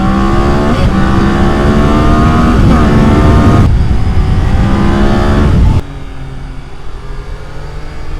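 A Triumph Daytona 660 motorcycle accelerates hard through several rising gear pulls, loud and close with heavy wind rush, then the engine note drops and settles into a steadier, quieter drone on an open road.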